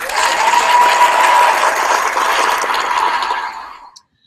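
A crowd gives loud, dense applause at an event, sustained for about three and a half seconds before tapering off abruptly into silence.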